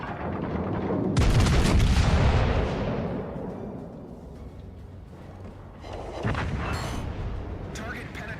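Naval guns firing from warships in a World of Warships battle, a loud booming salvo that rolls into a long rumble, then fades before another burst of gunfire, with a voice talking over it.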